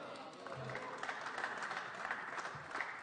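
Faint, steady applause fills a parliamentary chamber during a debate on French departmental council elections, a continuous wash of many hands clapping, with a voice speaking over it.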